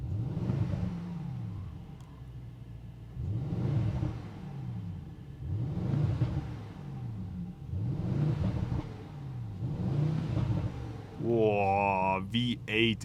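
A 2024 Mercedes-AMG GLE63 S Coupe V8 idling and revving in Sport Plus mode, heard from inside the cabin as a series of six rising and falling engine swells, then a higher-pitched sweep near the end.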